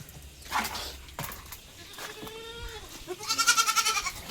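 Malabari female goat kids, about two to three months old, bleat at close range in several short, wavering cries, the last one louder and rapidly pulsing, amid faint rustling and thumps.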